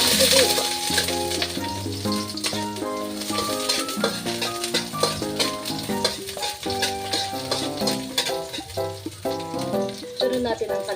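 Garlic and then onion frying in a hot pan for an Ilocano lunch dish, giving a steady sizzle with occasional stirring, partly buried under continuous background music.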